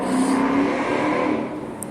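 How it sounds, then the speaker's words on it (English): A loud car roars past nearby in a parking garage, its engine revving in a steady drone that eases off toward the end. "That car was loud as fuck."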